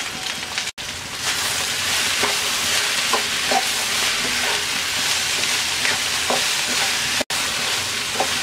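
Okra (bhindi) with turmeric and salt frying in a pan over raised heat, a steady close crackling sizzle with faint stirring taps, broken by two brief silent cuts.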